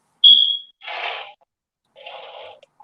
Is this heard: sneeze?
no